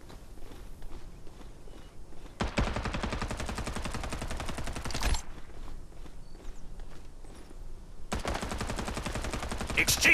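Rapid automatic gunfire in the battle game Farlight 84, two long loud bursts separated by quieter stretches of footsteps and movement.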